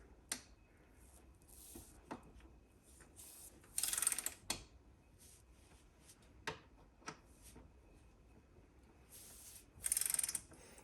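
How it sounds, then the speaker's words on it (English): Ratcheting clicks and short bursts from a torque wrench tightening bolts on carbon brake ducts of a 2022 Ducati Panigale V4, close and intermittent, with two louder ratchet runs among scattered single clicks. "crucial torque wrench, 45 Newton meters. And we will tighten this girl up here."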